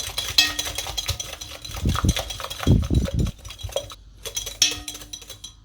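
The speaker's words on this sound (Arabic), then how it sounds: "حركون بالباهي حتىش نذوب السكر متاعنا الكل في وسط البيض." A utensil stirs eggs and sugar in a bowl for a cake, making repeated close clinks and scrapes against the bowl in an irregular rhythm, with no talking.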